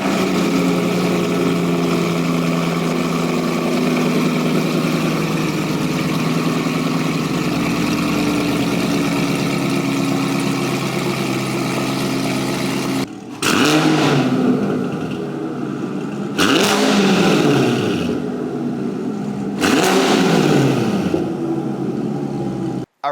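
A C7 Corvette fitted with an AWE Touring exhaust cold-starts and settles into a loud, steady idle, then three sharp revs surge and fall away, heard up close with no talking.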